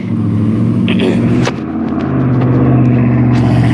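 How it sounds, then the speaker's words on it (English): A loud truck rumbles past close by outdoors, a heavy low engine drone that swells and stays strong throughout a few seconds with no talking over it. "Ooh, hang on, loud truck."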